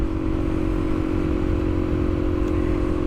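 A Suzuki DRZ400 motorcycle, a 2022 model with the original exhaust emptied out, idles loudly nearby with a steady, throbbing engine note and a faint rattly clatter, holding an even level without revving much.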